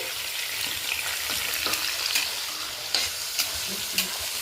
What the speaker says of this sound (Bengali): এবার দিয়ে দিচ্ছি ক্যাপসিকাম, দিয়ে হালকা করে এইভাবে ভেজে নেব।